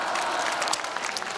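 Audience applause at a youth talk-concert in Korea: a dense, steady patter of many hands clapping together for just over a second, fairly loud and even throughout, with no voices on top.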